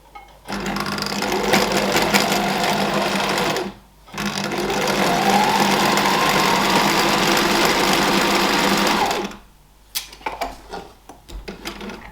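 A sewing machine tacks down the sides of a golf trolley caddy bag, running loud and steady for two long stretches with a brief pause between, then a few short stitching bursts at the end.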